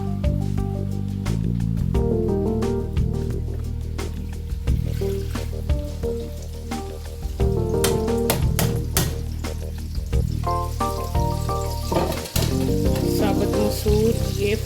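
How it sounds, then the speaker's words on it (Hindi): Whole soaked and dried lentils frying in hot oil for homemade Bombay mix, a loud, steady sizzle with bubbling crackle and occasional stirring clinks close by. "साबुत मसूर ये फ्राई होके बहुत ही मज़े के लगेंगे।"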